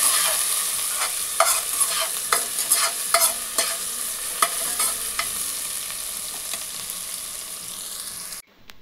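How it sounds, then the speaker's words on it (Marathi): Onions and green chillies sautéing in a pan after a mustard seed tempering, a continuous sizzle punctuated by sharp spoon scrapes and clicks, cutting off abruptly at the end. "लगेच कांदा टाकून देऊया। कांदा छान परतून घेऊया।"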